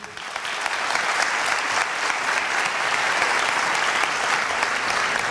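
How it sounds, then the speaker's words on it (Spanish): A conference audience applauds a sociologist speaker with sustained, dense clapping that swells slightly in the first second and then holds steady and moderately loud throughout. "Un aplauso para él."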